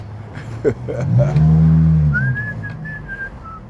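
A clear whistle rises and holds as a few sustained tones, over a low rumble like a passing vehicle, with a brief voice beforehand.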